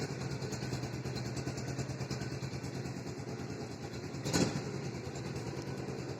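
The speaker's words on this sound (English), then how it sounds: "I will show you the start of this bike" Bajaj Pulsar 180F motorcycle engine idling steadily at close range, a continuous rhythmic low rumble with a brief louder blip near the end and no talking.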